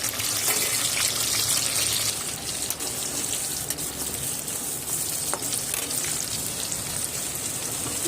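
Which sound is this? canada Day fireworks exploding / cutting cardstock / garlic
garlic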